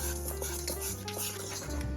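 Dry ingredients (baking soda, salt, cinnamon, nutmeg) being stirred together in a bowl for zucchini muffins, a steady close scraping and clinking of a utensil against the bowl with no talking.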